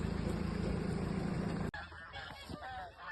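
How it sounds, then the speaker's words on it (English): Geese at a riverside resort honk in a loose group after a loud steady rumble cuts off, several scattered calls at mid distance, fairly faint. "And here we have all the geese."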